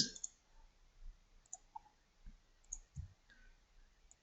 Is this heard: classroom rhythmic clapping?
no